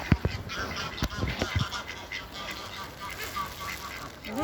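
A white duck quacks a few times amid outdoor background noise, with people chattering nearby.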